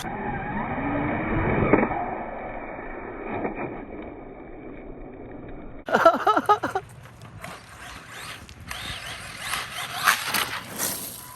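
A converted Arrma Senton RC car with a 2050kv motor and Firma 150 ESC runs and bumps over terrain, first a steady motor whine, then louder rough rattling and scrabbling from a jump and landing, with no talking.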